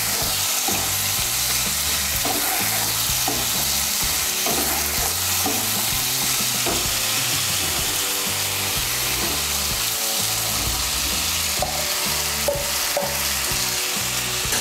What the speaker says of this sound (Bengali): আলু আর ফুলকপিগুলোকে মশলার সঙ্গে ভালো করে মিশিয়ে নেব।